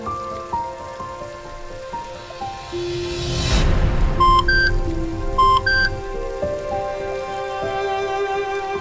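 Steady rain falls in a dramatized story scene, a dense hiss of drops on surfaces that swells midway, with a few short electronic beeps over it and no voices.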